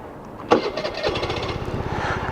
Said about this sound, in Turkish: Motoru çalıştıralım sessiz sessiz.